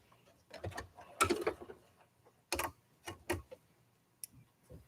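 A sewing machine stitching a fabric tie-back face mask, run by foot pedal in short bursts: several quick mechanical runs of needle clatter separated by pauses, fairly quiet and close.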